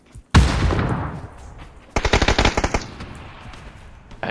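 Gunfire in a shooter video game: a single loud shot with a long echoing tail, followed by a rapid burst of automatic fire, then fading reverberation.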